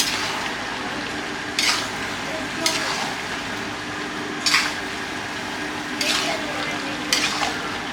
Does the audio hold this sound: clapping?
no